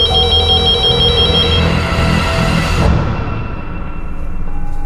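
A telephone rings loudly in a repeating electronic ringtone pattern, cutting off partway through, over a dramatic background music bed with no talking.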